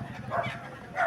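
A village dog gives a couple of short, close woofs about half a second apart, with a low murmur of background noise.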